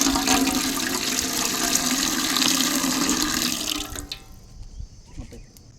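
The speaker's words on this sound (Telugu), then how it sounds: "ముందుగా అయితే గిన్నె పెట్టుకొని దానిలోకి ఒక 2 నుంచి 3 చెంబుల దాకా అయితే నీళ్లు పోసుకుందాం" Two to three jugfuls of water pour into a cooking vessel for soaking bread, making a loud, close rushing splash that runs steadily and then stops abruptly, leaving quiet dripping and faint handling.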